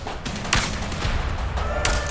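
Enemy gunfire in the video game A Way Out, a few sharp shots cracking over a steady rumble of game noise, with no talk.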